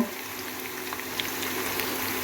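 Large pieces of chopped onion cook in a pot for biryani, in a kitchen in Kyrgyzstan: a steady, even sizzle and bubble holds at moderate loudness throughout, close by and with no voices.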